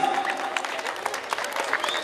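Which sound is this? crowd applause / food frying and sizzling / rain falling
crowd applause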